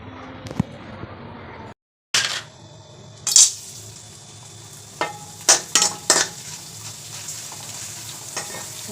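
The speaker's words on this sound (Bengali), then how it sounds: "পাঁপড় ভাজা করছে" Papad frying in hot oil on a rooftop, with a steady close sizzle broken by a brief dropout and several sharp bursts of crackle and stirring clatter.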